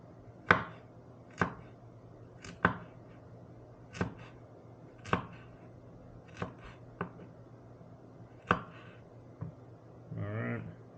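Ginger chopped on a cutting board with a knife, about ten sharp separate knocks spaced unevenly, close and clear over a faint background hum, ending in a brief rustle.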